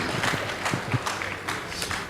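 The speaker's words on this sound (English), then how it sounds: "Please give them a round of applause as well." A studio audience claps for high school debate teams on stage, a short burst of scattered, uneven applause at moderate level.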